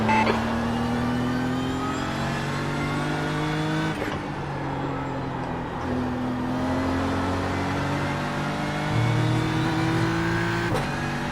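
GT3 race car in iRacing at Okayama, engine droning steadily at high revs with gear-shift steps in pitch, loud and continuous for the whole stretch.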